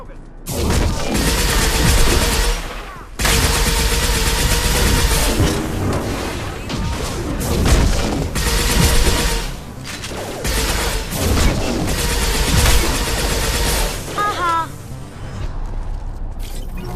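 Heavy gunfire and booming explosions from a Krogan ship in a sci-fi video game, dense continuous barrages with crashing impacts and mechanical clatter, briefly cutting out once before resuming loud and close until fading near the end.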